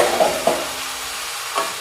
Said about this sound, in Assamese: ঢাকনখন দাঙি পেলাই অকণমান লৰাই দিওঁ